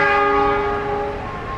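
A sustained, steady tonal hum or horn-like chord rings loud and close as the KA Taksaka train departs Cirebon station, slowly fading slightly, with no talk.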